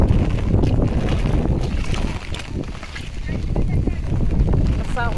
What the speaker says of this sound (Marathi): कसा ओढा वाहत आहे.